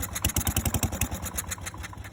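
A small single-cylinder lawn mower engine putters close by with a rapid, uneven chugging rhythm, loud and rough as it runs.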